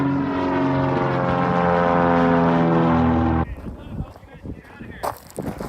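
A propeller aircraft runs up loud and close at an airport, its steady engine drone cutting off abruptly, followed by scattered quieter noises.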